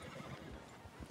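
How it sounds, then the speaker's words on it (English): A horse in the video game Red Dead Redemption 2 gives a brief, faint whinny, with soft hoof sounds, lasting only about a second. "Hold Y to hitch your horse."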